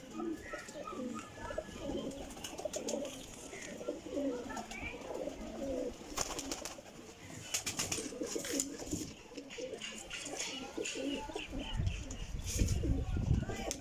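Sialkoti and Rampuri pigeons, including young female Sialkotis in fresh feathers, coo steadily in a loft, a soft continuous murmur of low calls with occasional faint chirps and brief wing rustles throughout.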